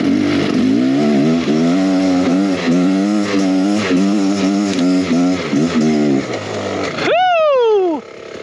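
Beta X Trainer 300 motorcycle engine droning and revving in wavering pitch while riding at sunset, loud and close, then a sharp rising rev that falls away near the end; a voice talks over the engine.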